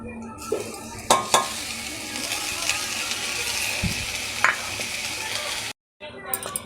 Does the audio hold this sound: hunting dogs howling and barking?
no